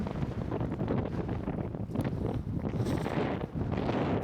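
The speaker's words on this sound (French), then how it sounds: "il y a énormément de vent, le vent est super froid" Strong, cold wind buffets the microphone on a walk across the Bardenas Reales desert, a loud, continuous low rumble that swells and dips without pause.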